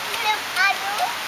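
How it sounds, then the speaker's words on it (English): Children jumping and splashing in water outdoors during the rainy season, a steady wash of water with bursts of splashing while young voices call out. "Jumping in the water"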